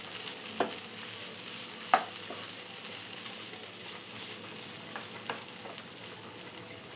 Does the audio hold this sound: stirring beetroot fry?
yes